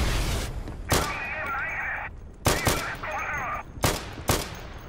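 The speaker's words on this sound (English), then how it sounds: "I'm just shooting windows." Gunfire in the World War II game Day of Infamy, aimed at windows: several sharp, loud shots come in separate bursts with short gaps between them, close up, over continuous background noise.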